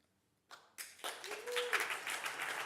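Conference plenary audience bursting into applause, a brief start then dense sustained clapping from many hands filling the hall, with a faint tone held underneath.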